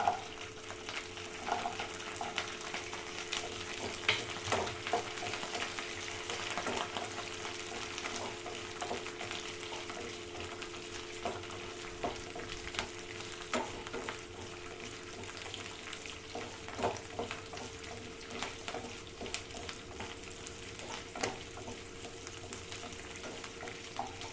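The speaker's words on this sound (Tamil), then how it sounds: "இந்த வெங்காயம் நல்லா வதங்கட்டும்." Onions and curry leaves fry in a pan for radish chutney, a quiet continuous sizzle with occasional light stirring scrapes throughout.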